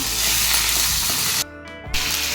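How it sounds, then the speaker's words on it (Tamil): Onions and tomatoes sautéing in a pan for egg masala give a loud, steady sizzle with a brief dip in the middle, close up and with no talking. "இது எல்லாம் கொஞ்சம் வதங்கட்டும்."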